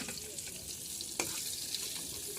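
Bitter gourd (karela) slices sizzle steadily in hot oil in a pan, a continuous broadband frying hiss with a brief scrape or clink of a utensil partway through, no voices.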